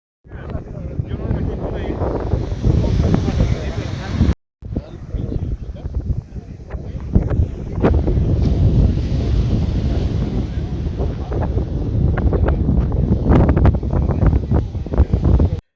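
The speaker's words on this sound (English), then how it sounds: "the wind just got stronger, the waves got bigger" Strong wind buffets the microphone while surf pounds a beach near La Paz, Mexico, a steady loud roar with gusting rumble lasting the whole stretch, briefly cutting out once.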